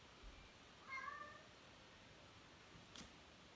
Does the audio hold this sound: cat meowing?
yes